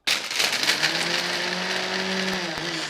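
A kitchen blender crushing ice runs close and loud, a dense whirring grind with a steady motor whine and rattling chunks throughout.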